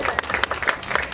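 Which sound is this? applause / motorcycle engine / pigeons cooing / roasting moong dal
applause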